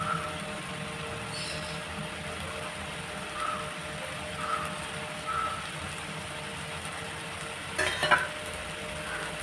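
Shrimp frying in a pan for prawn biryani, a steady low sizzle with faint stirring and a few brief scraping clinks near the end, no talk.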